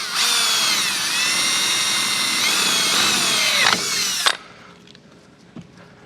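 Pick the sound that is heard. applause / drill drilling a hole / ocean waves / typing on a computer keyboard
drill drilling a hole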